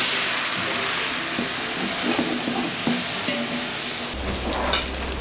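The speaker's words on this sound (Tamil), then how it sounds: "இஞ்சி பூண்டுலாம் வந்து நல்லா வதங்கிடுச்சு" Ginger and garlic sautéing in a pan while biryani is cooked, with a steady sizzle, occasional stirring scrapes and clinks, close by and without talking, ending in a louder hiss.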